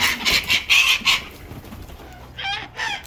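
Chickens at their first feed after three days: loud, close bursts of clucking and squawking in the first second or so, a brief lull, then another agitated cluck near the end, with no talking.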